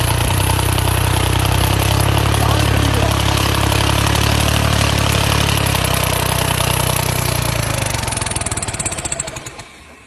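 A modified Moga tractor engine fitted with a turbo runs hard and loud at close range with a dense, steady mechanical roar, then dies away over the last two seconds.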